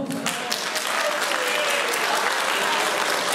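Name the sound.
applause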